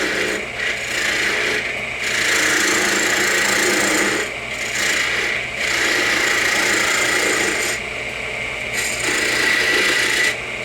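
A wood lathe spins a piece of soft wood while a spindle gouge rounds it off, a continuous rasping, scraping cut that swells and dips in repeated passes, close and fairly loud with no talking.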